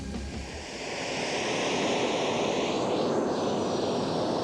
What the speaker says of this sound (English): Well, it's the world's smallest jet.